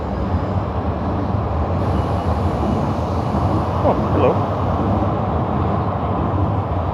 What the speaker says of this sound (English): As soon as I start recording, the train comes in.